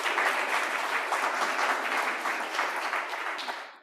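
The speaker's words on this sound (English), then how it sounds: "let's clap for Philip." Warm applause from a workshop audience at a climate justice summer school in Nairobi, a steady dense patter of many hands that fades out at the end.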